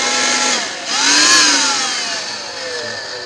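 Blender blades whirring through roasted butternut squash with a little water, a loud steady motor drone whose pitch dips and then climbs again as the load shifts.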